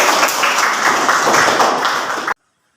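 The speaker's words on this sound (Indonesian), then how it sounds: "Beri tepuk tangan untuk Iza ya" A classroom of students claps together for a classmate named Iza, a dense, steady burst of applause that stops abruptly into silence.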